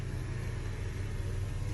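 A car's power window motor raising the glass all the way to the top, heard as a steady, dense motor whir with a low hum running evenly through the short stretch.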